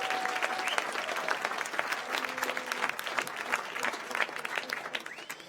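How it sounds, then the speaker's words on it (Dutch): Applause for a live band in a hall at a sports and business awards evening: a full, sustained crowd clapping, steady and even throughout. "Mike, als eerste nogmaals een applaus voor deze fantastische band."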